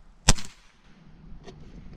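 A single sharp crack from an Air Venturi Avenger .22 air rifle firing pellets during a small game hunt, close and brief, followed by a faint thud and quiet outdoor background.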